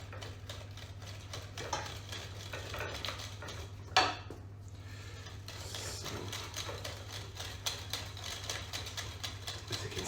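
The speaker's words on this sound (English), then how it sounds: "So now we've added this, get this mixture mixed." Coconut milk cake batter being mixed in a bowl for a coconut milk and cranberry cake, with steady clinking and scraping of a utensil against the dish and one sharper knock, over a low constant hum.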